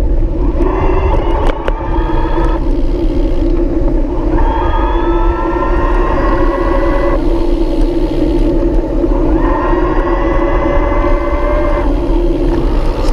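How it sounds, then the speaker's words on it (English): VeloMini Plus e-bike motor spins up with a rising whine and then cuts out, several times in a row, over a steady rumble of road and wind noise. Nobody speaks. "you should be able to hear the motor starting and stopping"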